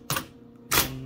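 Two loud, sharp mechanical clacks from a 1980 IBM Selectric III electric typewriter typing business cards, spaced apart with a quieter motor hum between strikes.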